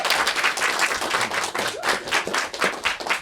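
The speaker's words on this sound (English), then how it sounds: "you can give us a round of applause if you want." Comedy show audience applauding, a dense, lively burst of clapping from a crowd that rises and falls in waves throughout.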